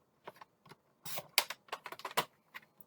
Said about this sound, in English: I am going to use a paper trimmer to do it, just so I get a nice straight edge.